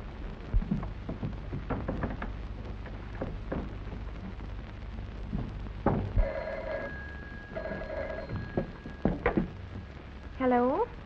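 An old telephone bell rings in two quiet, sustained bursts in a western-era indoor setting, with scattered knocks and a few spoken words around it.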